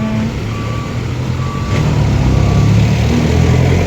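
Loud, constant street traffic in the Philippines: jeepney and truck engines rumble nearby, with intermittent beeping tones cutting through.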